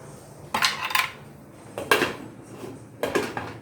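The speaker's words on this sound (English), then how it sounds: "I'm gonna cover it up." Three metallic clanks of a lid being set on a cooking pot, close and clear, spaced about a second apart.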